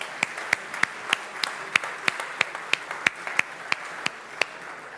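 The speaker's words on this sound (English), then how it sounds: "Another round of applause for our local authorities." Sparse applause for local authorities at a photonics economic forum: a dozen or so distinct, evenly spaced claps ring out at a steady rhythm, light and somewhat distant rather than a full crowd ovation.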